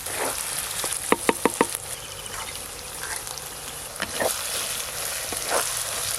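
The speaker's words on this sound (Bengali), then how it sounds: "এবার সব মশলা একসঙ্গে খুব ভালো করে ভাজবো" Spices with crushed ginger and garlic frying in a pan for a Bihari-style mutton curry with potatoes, giving a steady sizzle with a burst of quick stirring clicks near the start and a few later scrapes.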